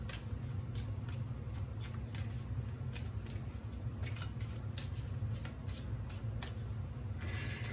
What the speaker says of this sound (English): Let me get all these cards out here.